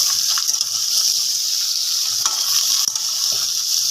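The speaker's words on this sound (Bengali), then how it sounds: "এবার এটা ভালোভাবে একটু ভাজা হোক" Mixed vegetables and potatoes sizzle loudly in oil tempered with radhuni for Bengali shukto, a dense, even hiss close by with a few soft stirring knocks and no voices.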